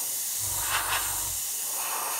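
Close, continuous airbrush hiss as paint is sprayed in a fine, glossy coat, with a low mechanical hum running underneath for about a second in the middle.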